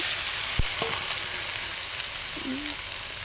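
Chili paste fries in oil in a pan with a steady soft sizzle, broken now and then by a faint stir or scrape.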